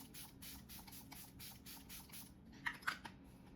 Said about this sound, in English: I'm going to go ahead with the setting mist